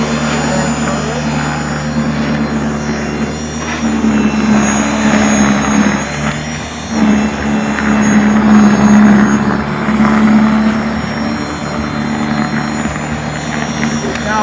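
An Ego battery-powered snowblower runs steadily while clearing snow beside a parked car, its motor and auger giving a continuous whirring drone that swells and dips slightly as it moves through the snow.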